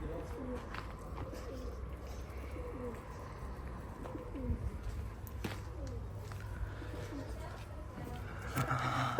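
Pigeons cooing in a loft, several soft low repeated coos overlapping at close range, with occasional chirps, light shuffling and footsteps, and a quiet voice now and then.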